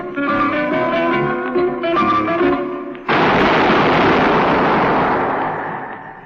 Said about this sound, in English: That was the shot that killed Harry Lime.